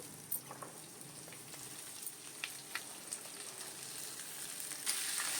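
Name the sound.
ivy gourds added to hot oil, sizzling and frying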